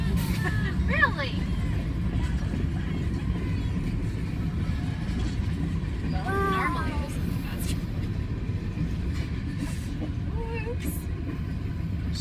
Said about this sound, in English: I was not actually expecting this train to actually come.